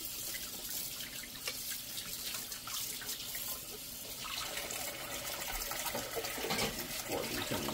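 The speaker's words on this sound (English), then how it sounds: "let's continue rinsing." Water runs continuously from a kitchen tap while dishes are rinsed under it, a steady splashing rush with occasional clinks and shifts in the stream as items move through the flow.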